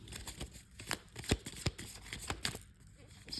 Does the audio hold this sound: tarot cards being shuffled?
yes